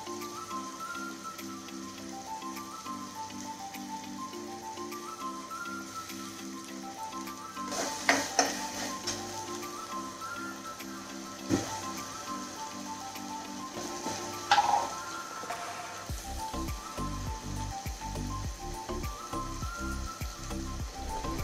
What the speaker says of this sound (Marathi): तेल तापल्यानंतर त्यात मी कांदे टाकले आणि मग त्याच्यामध्ये मी अद्रक लसूणची पेस्ट टाकली।